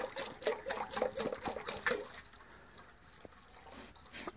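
Water is poured in splashing, trickling bursts for about two seconds and then fades to quiet dripping, close by and fairly soft.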